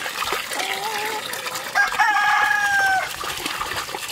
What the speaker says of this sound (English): We keep getting renegade chickens.